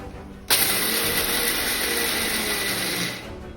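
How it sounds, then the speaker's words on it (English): A mixer grinder coarsely grinding ingredients for groundnut curry starts abruptly with a loud, steady whirring motor roar that holds for about three seconds before cutting off. "So we are going to grind this."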